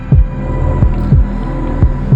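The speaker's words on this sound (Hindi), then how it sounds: "मेरा दिल ज़ोर ज़ोर से धड़कने लगा।" A loud, deep heartbeat thuds in paired beats, repeating at a quick steady rhythm over a low hum.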